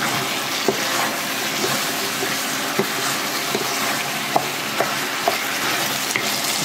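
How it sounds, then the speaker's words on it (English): Sweet and sour pork ribs stir-fried over high heat with a little olive oil, giving a loud, continuous sizzle with occasional light taps of a spatula against the pan, up close and without speech. "you must stir fry this on high heat if you want that authentic restaurant style sweet and sour pork ribs"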